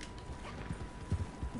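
Faint clip-clop of an Arabian horse's hooves in Red Dead Online, a soft, uneven rhythm of steps within a quiet game background.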